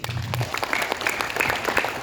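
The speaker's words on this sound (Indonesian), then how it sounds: "Tepuk tangan dulu Bapak Ibu." Audience members at a community seminar applaud, producing a busy patter of many claps that continues steadily at moderate volume, with a faint murmur underneath.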